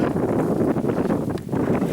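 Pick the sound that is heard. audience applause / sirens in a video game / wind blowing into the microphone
wind blowing into the microphone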